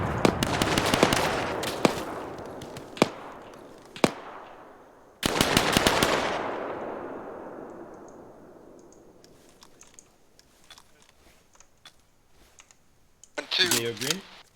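Arma 3 gunfire in a first-person military shooter: rapid bursts of automatic fire and sharp single shots echo and fade, then return later with a cluttered burst near the end.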